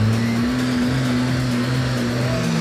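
An off-road truck engine on rocky Heartbreak Ridge at the Tuff Truck Challenge 2015 drones loud and steady near at hand, pitch wavering as it strains for traction with all four wheels locked.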